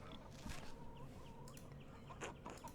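Hens cluck and chirp on a farm in the video game Pentiment, with several short clucks and rising calls scattered across a quiet background and no speech.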